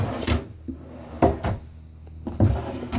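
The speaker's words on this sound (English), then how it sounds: "Big drawers, ball bearing glides," Large drawers on ball bearing glides in a 2016 Keystone Alpine 3535RE fifth wheel RV open and close, giving three or four solid wooden thumps with brief sliding rumbles between them, close and loud.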